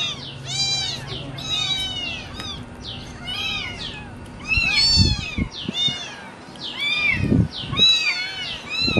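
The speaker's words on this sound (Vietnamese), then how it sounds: "Bắt con mèo chị vào con." Several kittens meow repeatedly in high, thin cries, close and overlapping in quick succession, with occasional low thumps and handling noises in between.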